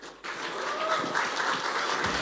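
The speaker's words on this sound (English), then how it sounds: "Please give a big round of applause to him." Audience applause breaks out for a guest speaker at a crypto summit in Dubai, a dense steady patter of many hands clapping that swells after a brief quiet start and holds evenly throughout.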